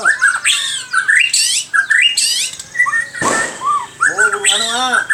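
A bird calls in the evening with loud, harsh squawks and wavering warbled whistles, repeated in close bursts with short gaps, including one noisy rasping burst, and someone speaks briefly among the calls.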